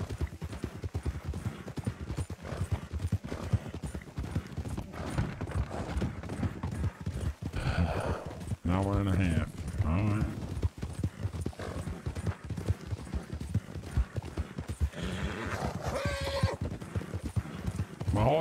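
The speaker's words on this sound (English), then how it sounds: "Why is the horse glitching?" Galloping horse hooves in Red Dead Redemption beat in a rapid, continuous clip-clop rhythm, with a couple of neighs and whinnies breaking through partway, while someone talks over the gameplay at moderate volume.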